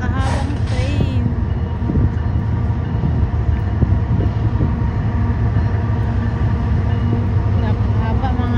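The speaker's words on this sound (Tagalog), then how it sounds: "Ayan, may train na pa daan. Napakahabang train." A very long freight train carrying shipping containers and wood rolls past at White Rock, British Columbia. Its loud, continuous rumble and clatter fill the whole clip while people talk nearby.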